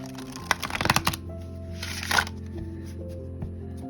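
A Feng Shui Tarot card deck being shuffled close up in two short, riffling bursts, the first longer than the second, over soft, steady background tones.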